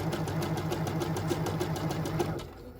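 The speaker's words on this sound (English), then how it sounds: "it's going to stitch only 3 of those scallops" A Bernette b77/b79 sewing machine stitches a scallop pattern, its needle running in a steady rapid rhythm close by before the motor winds down and stops near the end.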